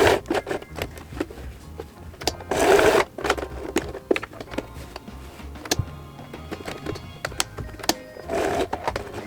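Sewing machine stitching a box and X pattern through fabric layers for a belt bag, rapid mechanical stitching bursts broken by pauses and clicks, close and moderately loud.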